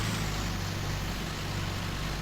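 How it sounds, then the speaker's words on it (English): A farm tractor engine runs at a steady idle, heard close and continuous as a low rumbling drone with no speech. "And we'll put the tractor away now."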